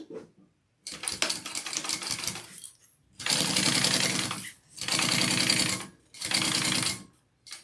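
A domestic sewing machine bastes a pocket onto a handbag in three bursts of steady, rapid stitching, close and fairly loud, separated by short pauses and quiet handling.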